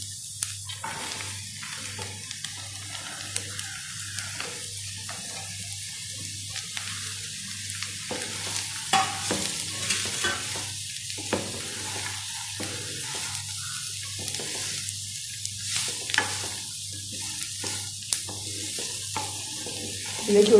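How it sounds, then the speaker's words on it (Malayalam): Chopped pumpkin sizzles faintly in a pan with oil while being stirred, giving a soft steady fry with light scraping and clinking from the spoon and a low hum underneath. "നമ്മൾ അരിഞ്ഞ് വെച്ചിരിക്കുന്ന മത്തങ്ങ അതിലേക്ക് ചേർത്ത് കൊടുക്കാം"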